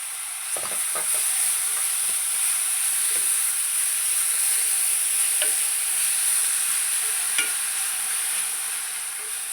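Washed dill leaves frying in a little oil for sabbasige palya, a steady close hiss and sizzle throughout with a few faint scrapes and clinks from stirring.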